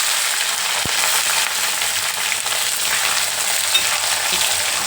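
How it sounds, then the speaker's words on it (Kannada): Onion, green chilies and urad dal lentils fry in oil in a pan, a steady dense sizzle running throughout with a brief sharp click near the start and no voices. "ಸ್ವಲ್ಪ ಇದನ್ನು ಫ್ರೈ ಮಾಡ್ಕೊಳ್ಳೋಣ, ಈರುಳ್ಳಿ ಬೇಯೋವರೆಗೂ."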